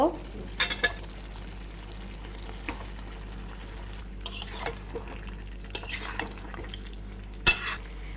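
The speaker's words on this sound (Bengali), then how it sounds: "এখন আমরা অল্প নাড়িয়ে দেব। এখন আমরা কয়টা আলু দিয়ে দিব।" Chicken curry with potatoes being stirred in a pot, giving a few soft scraping and clinking strokes of a utensil against metal over a quiet, steady background hum.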